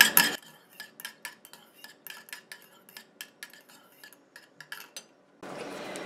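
A utensil stirs a DIY hair elixir mixture in a small container, making a quick series of light clinks and scrapes in an irregular rhythm, close and clear, after which a soft hiss follows.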